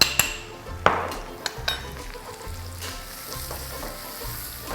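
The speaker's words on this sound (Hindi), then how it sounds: "इसको अभी हम अच्छी तरह भूनेंगे।" Egg masala with red chili powder, cumin powder and pav bhaji masala sautéing in a pan, loud sizzling frying with sharp metallic clanks of a spatula against the pan and rhythmic scraping stirs.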